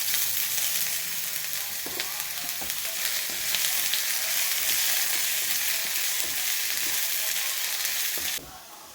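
Ginger sizzling in hot oil in a pan while a coconut-based fish curry is started, a steady bright crackling fry with occasional stirring clicks that drops off abruptly near the end.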